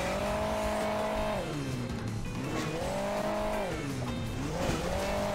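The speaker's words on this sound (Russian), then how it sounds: "Почему его машину вот закидывает?" Wheels skidding and tyres squealing in the mobile racing game Hill Climb Racing 2, with a continuous engine whine that rises and falls in pitch in repeated swoops, loud and steady throughout with no talking.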